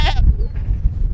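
Goats bleat loudly and close by in a snowy farmyard, a short burst of wavering cries that quickly fades into low rumbling background noise.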